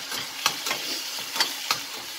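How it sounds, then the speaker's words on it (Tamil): Crushed garlic sautés in a pan for a tomato potato gravy, a soft continuous sizzle broken by several sharp stirring scrapes, close and alone with no voices. "நல்லா வதக்கிக்கோங்க"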